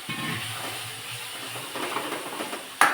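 Hot water poured into hot masala in a pan, a continuous steamy hiss and bubbling sizzle that swells toward the end with a sharp final burst.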